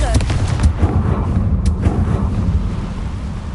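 A Confringo fire spell explodes in Hogwarts Legacy, a dense, roaring low-frequency blast that rumbles on for several seconds, loud and close with a bright crackle near the start.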